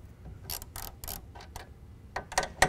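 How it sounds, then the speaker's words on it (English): Ratchet wrench loosening 7/16 nuts on the rail bolts of a BAK RollBak tonneau cover, with several short bursts of quick ratcheting clicks, close and crisp, separated by brief pauses. "These are 7 16 nuts. I loosen them up off of the bolts"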